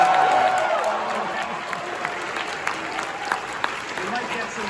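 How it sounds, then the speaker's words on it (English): An audience at a game awards showcase applauds, loudest at the start and then settling into a sustained patter of clapping, with a few sharper claps standing out and speech faintly mixed in. "Now let's also applaud Claire Obscure from"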